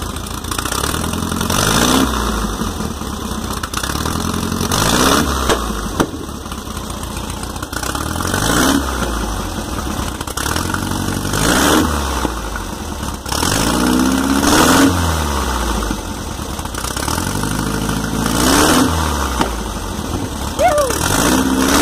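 The exhaust of a Volkswagen Fusca, a Beetle, spits flames while its engine revs hard again and again in a rhythmic pattern, loud and close, with sharp crackling pops between the surges.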